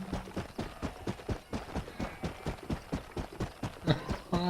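Horse hooves clip-clopping at a steady trot in the Red Dead Redemption video game, an even, rhythmic run of close, muffled thuds with a brief extra noise near the end.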